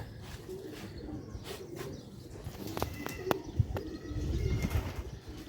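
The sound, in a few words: pigeons cooing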